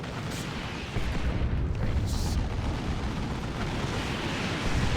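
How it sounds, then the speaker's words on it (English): Chaos Sorcerer Doom Bolts explode in Dawn of War 2, a loud, rumbling wall of blasts and crackling impacts merging into continuous battle noise with a few sharper bursts. "Sorcerer Doom Bolts."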